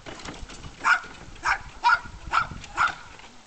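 A dog barks five times in a quick irregular series, moderately close, over faint background noise.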